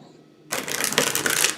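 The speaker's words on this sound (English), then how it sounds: "I like to feel the energy of the cards as I'm shuffling them." Tarot oracle cards from The Psychic Tarot deck are riffle-shuffled close up, a loud rapid crackling flutter starting suddenly after a quiet moment and lasting about a second.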